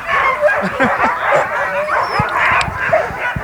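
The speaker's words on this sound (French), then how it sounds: "Bonjour les petits chiens." Several small dogs yip and bark in quick, overlapping bursts nearby, mixed with whimpers and snuffling.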